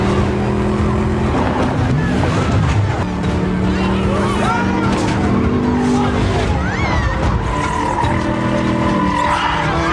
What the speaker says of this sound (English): Driving on two wheels, the fate of the furious.